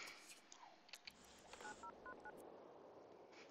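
A phone in The Sims 2 dials a number, four short pairs of touch-tone beeps spaced evenly in a quick run, heard faintly against soft game sounds and small clicks.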